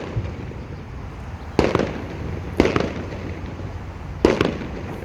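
Independence Day fireworks go off near a casino parking lot in three separate loud bangs spaced roughly a second and two seconds apart, each with a short crackling decay over a low steady outdoor hum.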